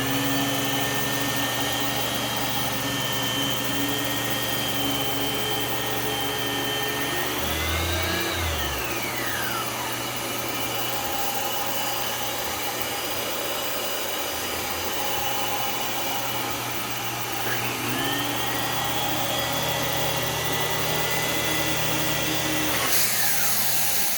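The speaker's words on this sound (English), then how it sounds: "this Dyson is a little loud, and the brush roll motor is very noticeable" Dyson DC17 Absolute upright vacuum cleaner running on carpet, a loud, steady motor roar with a noticeable brush roll whine. Pitch sweeps up and down twice as it is pushed and tilted, with no talking.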